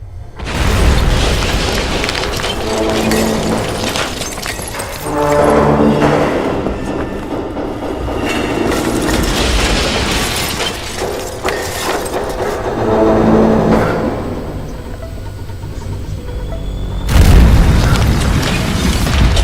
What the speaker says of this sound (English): Suddenly, the factory collapsed, destroying the animatronics, and possibly killing Jack.